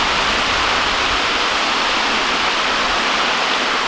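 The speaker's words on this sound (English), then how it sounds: "The water's pretty loud" Loud, steady rushing water fills an Arizona canyon, a continuous broadband roar like a waterfall or fast stream with no pauses, heard close and alone.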